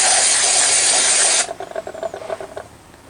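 Carb cleaner sprays from an aerosol can onto the Northstar V8 of a 2005 Cadillac STS in a loud, continuous hiss lasting about a second and a half, then stops sharply into faint clicking and handling noises.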